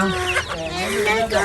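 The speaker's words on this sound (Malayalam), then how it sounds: "കോഴിക്കുഞ്ഞുങ്ങളെ നോക്കി" Several chickens and chicks of various sizes cluck and chirp close by, overlapping calls in a busy, continuous stream.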